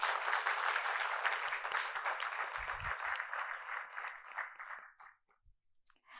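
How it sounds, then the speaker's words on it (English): Applause from an audience at a company stock-listing ceremony for Chamunda Electricals: a dense, sustained clapping that carries steadily for several seconds, then thins out and fades near the end. "please give Chamunda Electricals a huge round of applause"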